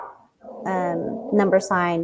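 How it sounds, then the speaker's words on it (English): A pet dog barks and whimpers indoors, close and loud, a few tonal yelps and barks after a short pause. "And I apologize for my dog barking right now."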